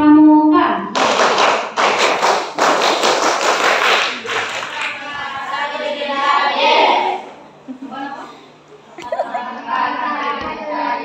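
A group performs the Indonesian scout clap, tepuk pramuka, in a boarding-school gathering. Crisp, loud claps come in quick rhythmic bursts, mixed with children's voices and chatter, then the clapping gives way to talk and a few stray taps.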